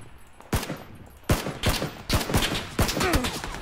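Bursts of gunfire in a PUBG match on a hillside, several sharp, loud shots spaced irregularly over a few seconds, with no talk.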